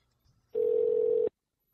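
A single steady telephone tone lasts under a second, then cuts off into quiet.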